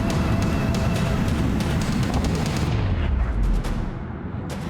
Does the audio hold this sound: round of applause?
no